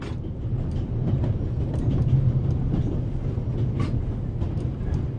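Steady, low, rumbling train motion with faint rhythmic clacking of wheels on rails, heard from inside a moving train in the video game The Raven: Legacy of a Master Thief, with no voices.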